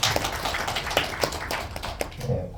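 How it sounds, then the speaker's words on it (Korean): Scattered handclaps from a modest audience at a political meeting, individual sharp claps standing out unevenly over a faint room background before tapering off. "박수 한번 주시면 고맙겠습니다"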